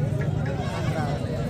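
Young goat kids bleat at a busy rural livestock market in Dera Ghazi Khan, Pakistan, a few short cries rising over a crowd of talking voices.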